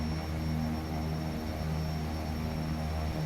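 Beech 1900 turboprop engines in the X-Plane flight simulator give a steady, loud droning hum with a constant tonal whine that holds unchanged throughout, with no talking.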